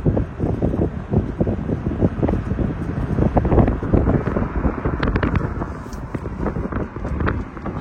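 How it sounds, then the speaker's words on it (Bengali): Strong wind on a mountain road in North Sikkim, a loud continuous roar buffeting the microphone with gusty low rumbles throughout. "বাইরে কিন্তু প্রচন্ড হাওয়া দিচ্ছে।"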